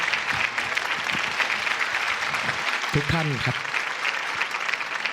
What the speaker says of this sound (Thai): เสียงปรบมือให้คุณเจ้าพญาและคุณมิดแมนด้วยครับ